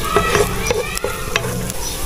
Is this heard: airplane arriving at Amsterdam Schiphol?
no